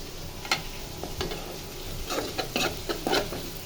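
Onions frying in a pan before eggs are fried, a soft steady sizzle broken by several sharp scrapes and clinks of a spatula stirring.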